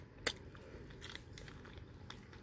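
Biting into crunchy pan-fried flounder, a sharp crisp bite followed by a few faint crunches and chewing sounds, close and quiet with no talk.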